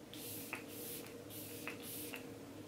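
Makeup setting spray misted over a face in three short hissing bursts, close and soft, over a steady low room hum.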